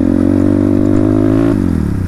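A motorcycle rides across a rough, unpaved hillside track near Sarangkot, its engine droning close and loud in a steady, buzzing tone that drops in pitch as the bike eases off near the end.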